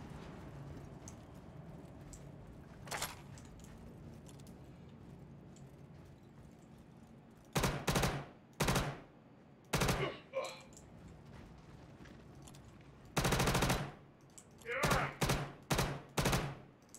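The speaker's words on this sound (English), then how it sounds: "Just want to make sure my gun shoots." Gunfire from a gun in Star Citizen: a single shot, then loud close shots in separate clusters and short bursts.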